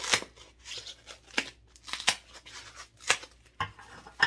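Scissors snip through material being trimmed to fit a container, a series of crisp, close cuts in an irregular rhythm with short pauses between them and no talking.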